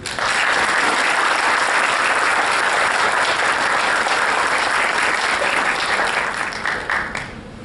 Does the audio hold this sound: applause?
yes